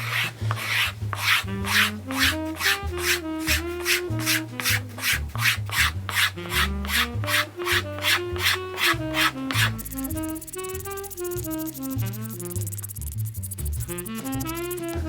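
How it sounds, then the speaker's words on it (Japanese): A blade scraping the grain surface off a wetted leather shoe sole, making a fast, regular back-and-forth rasp that is loud and close and continues steadily with no talking. "じゃあまず水で濡らして、 皮の表面をね銀面を落としていきます。"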